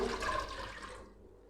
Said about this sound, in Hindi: उसके बाद हम डालेंगे पैन में, ये हमने 2 कप पानी लिया है वो